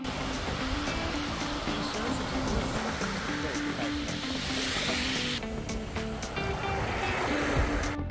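Surf rolls in at Kamari Beach, Santorini, on an overcast day with rough water, a continuous close wash of breaking waves that swells slightly as a bigger wave arrives.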